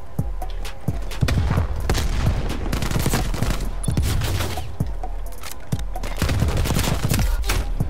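Dense, continuous gunfire in Call of Duty: Cold War multiplayer, with rapid overlapping shots and heavy bursts hammering close and loud throughout, some impacts booming between the rattling volleys.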